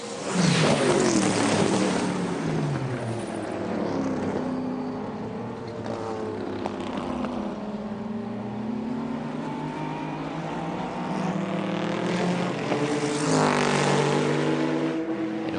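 Porsche 911 GT1 race cars at the 1997 Le Mans 24 Hours, their engines droning loudly and continuously with pitch rising and falling as they run.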